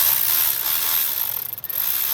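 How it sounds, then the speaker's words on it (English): Ratchet working on a 12 mm alternator bracket bolt of a 2009 Toyota Corolla, giving a loud, close run of clicking pawl strokes with a brief stutter near the end. "So we'll get that put back on the ratchet. See if we can get this broke free with this without breaking it."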